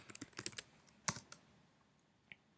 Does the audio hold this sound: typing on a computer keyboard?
yes